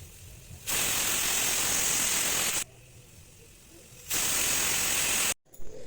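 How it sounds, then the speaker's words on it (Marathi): Loud pressure cooker whistle venting steam on a kitchen stove while dal cooks, two long hissing blasts, each about two seconds, separated by a quieter gap, with a sharp cutoff near the end. "आता कुकरच्या शिट्ट्यासुद्धा होत आहेत"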